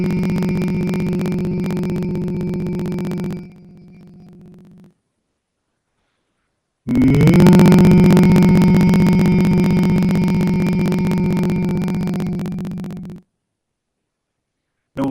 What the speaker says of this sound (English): take a deep breath, and then hum deeply and intensely without